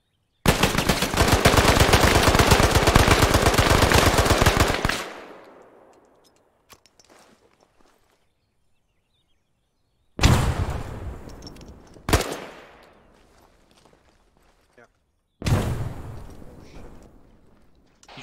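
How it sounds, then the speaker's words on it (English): Loud automatic gunfire in the video game ArmA 3, aimed up through a floor: a sustained burst of about five seconds, then several shorter, sharp bursts separated by silence, each ringing off with a fading echo. "Trying to shoot up through the fucking floor."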